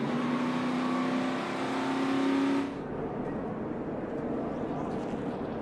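NASCAR Xfinity race cars caught in a multi-car crash heading into turn 3 at Talladega, a loud sustained engine roar that cuts off abruptly partway through, leaving a rougher, lower rumble of slowing, damaged cars.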